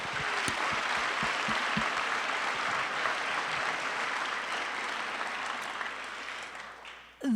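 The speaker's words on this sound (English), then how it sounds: "Let's give a big round of applause for our committee here tonight." Steady, dense applause from an indoor audience at a youth sports awards night honoring the organizing committee, sustained and fairly loud for several seconds before cutting off abruptly at the end.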